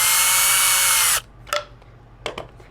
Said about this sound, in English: I'm going to drill it through.